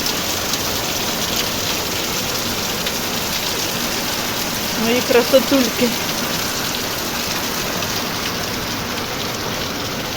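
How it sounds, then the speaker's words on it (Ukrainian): Steady rain falls all day outside a house in grey weather, a dense, even hiss throughout, with a voice briefly speaking near the middle. "Головне, що дощ іде, там аж сіро-сіро"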